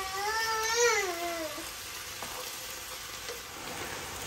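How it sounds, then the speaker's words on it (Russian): Cabbage and onion fry in their own juices in a pan, a steady soft sizzle throughout, with a brief high whining tone fading out near the start. "Капуста и лучок дали сок. Я все обжариваю."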